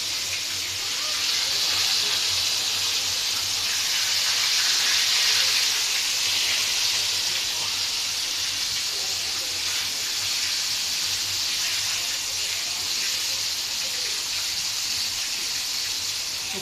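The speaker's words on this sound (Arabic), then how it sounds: "بصوا بتحمر بقى" Breaded chicken panee frying in a pan of hot oil, a steady loud hiss and sizzle that holds evenly throughout.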